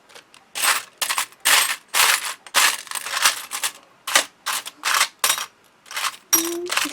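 Small craft embellishments rattling and clicking as fingers rummage through them, a close series of irregular crisp bursts with no talking.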